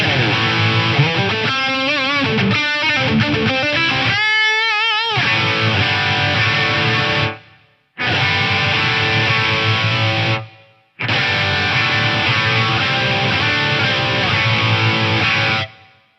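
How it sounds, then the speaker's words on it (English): An electric guitar runs through an Eventide Eclipse effects unit with distortion used as a thickening effect, giving loud, dense sustained chords with a few abrupt stops and restarts. "I'll try it with some distortion. It's pretty cool as like a thickening effect."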